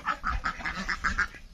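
Geese and ducks quack in alarm at a rural novitiate farm in Meziphema, Nagaland, giving a quick run of about eight nasal calls, fairly close but moderately quiet, with no talking.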